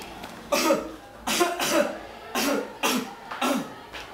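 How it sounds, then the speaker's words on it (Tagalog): Someone coughs repeatedly, about six harsh close-up coughs in uneven bursts with short gaps between them. "Pre, inuubo ka ba?"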